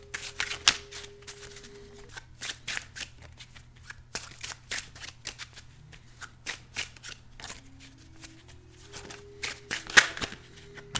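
Tarot cards shuffled by hand in a quiet room, a steady run of soft riffling bursts and slaps with a low background hum.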